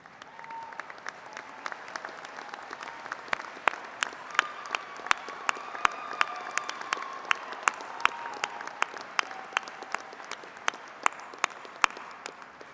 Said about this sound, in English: perhaps the graduates may want to stand up and give you a round of applause